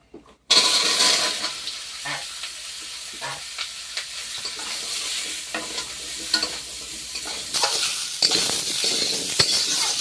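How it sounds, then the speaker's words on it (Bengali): Fresh garden vegetables hit a wok holding a little oil left from frying fish, bursting into a loud steady sizzle after a brief quiet start, with stirring scrapes and clinks throughout. "তো কড়াইতে মাছ ভেজে অল্প একটু তেল রয়েছে, একদম অল্প, সেই তেলে এই সবজিটা দিয়ে দেবো।"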